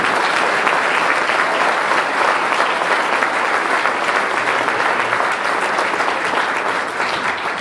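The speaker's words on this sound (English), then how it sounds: "So an applause for everybody that makes GLPA possible." Steady, dense applause from a large audience at a planetarium association conference awards session fills the whole stretch evenly, loud and close, with no pauses.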